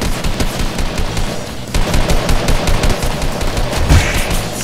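Rapid assault rifle fire in the Fortnite battle royale game, bursts of loud close shots crackling steadily for several seconds with a heavier boom near the end.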